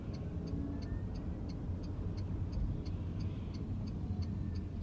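A car pulls away from a junction on a driving test route after the handbrake is released, a low, steady engine and road rumble heard from inside the cabin, with a regular indicator ticking throughout.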